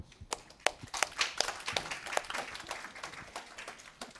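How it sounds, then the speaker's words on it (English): A small audience at a Java user group meetup claps in scattered, lively applause for several seconds, the sharp individual claps distinct and close, with no talking over it. "Round of applause, please."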